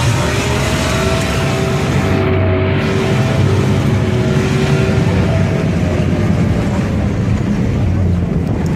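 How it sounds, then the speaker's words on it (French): An M151 American 4x4 military vehicle developed by Ford, with its engine running loud and steady, heavily buffeted by wind noise on the microphone throughout, close to the vehicle. "c'est une M151, qui est un véhicule militaire américain 4x4, développé par Ford Motor Company"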